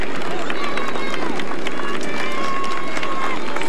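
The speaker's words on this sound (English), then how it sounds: "And a wonderful crowd here on the outskirts." Roadside crowd on the outskirts of a town near the finish of a 2013 Tour de France stage, a dense, steady wash of cheering and shouting voices with whistles and high calls over it, loud and continuous throughout.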